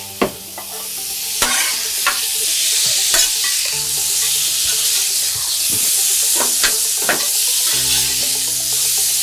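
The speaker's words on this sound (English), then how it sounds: "You're turning it and just putting a quick sear on it." Bluefin tuna sears in a hot pan at a backyard cookout: constant loud sizzling with sharp utensil clicks and scrapes as the fish is turned.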